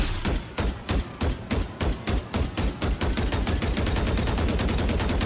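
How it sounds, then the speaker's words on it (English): Rapid gunfire from a video game weapon, beginning as slow, evenly spaced loud shots and quickening into a dense, near-continuous burst, with no talk. "Take a look at this clip and listen to the timings of the shots."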